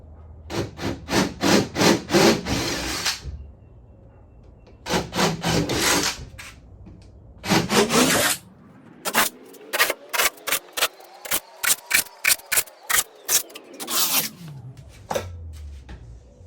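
A power drill with an 11/32 bit bores holes for a Krotov duckbill car spoiler in short, harsh grinding bursts separated by pauses, then a motor whine rises and falls under rapid repeated bites.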